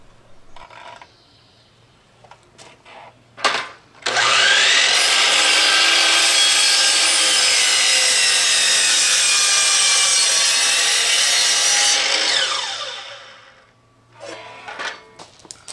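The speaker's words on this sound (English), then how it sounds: "Here I'm cutting the pieces of red oak that will form the box of the display case." A saw cuts red oak boards for a display case box: a loud, steady whining rip lasting about eight seconds, framed by quieter clicks and handling knocks before and after.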